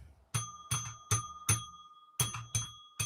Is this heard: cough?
no